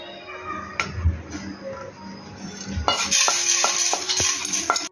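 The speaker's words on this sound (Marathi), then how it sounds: "आता ही मोहरीची डाळ आपण गरम करून घेऊ." Mustard dal being warmed and stirred in a pan while making spicy raw mango pickle, with a spoon scraping and clinking against the pan and a light sizzle that grows louder and busier in the second half.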